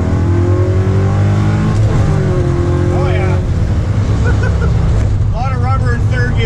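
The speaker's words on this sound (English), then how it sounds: "we'll see what a little power shift looks like here into third" A 1981 Camaro Z28 with a T-56 gearbox revs loud and close through a power shift into third, the engine note climbing, dipping briefly at the shift and climbing again, with someone talking over it.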